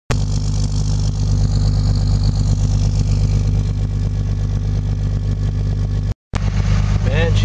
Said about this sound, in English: Man, she's still up at high idle. Must be pretty cold.